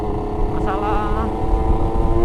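A 2005 Kawasaki Ninja R two-stroke motorcycle rides along with a steady, loud engine drone and a brief rise in pitch, while a rider talks over it throughout.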